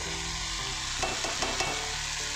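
Onion, tomato, dried chillies and garam masala fry together in a pan, a dense sizzle overlaid with a run of stirring scrapes in the middle; no talking.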